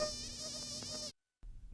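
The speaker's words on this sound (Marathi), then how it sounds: "माशी आता राजाच्या कानाशी गुंग गुंग करत फिरू लागली" A close, high-pitched fly buzz drones steadily, cuts off briefly into silence, then resumes.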